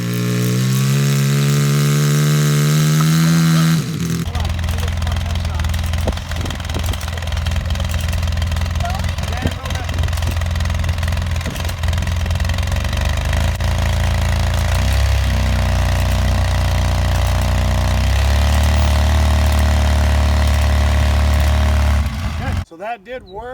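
UTV engine runs steadily and loudly for over twenty seconds while the stuck vehicle winches itself out with a come-along anchored to a tree stump. A rising rev comes first, then a sustained drone.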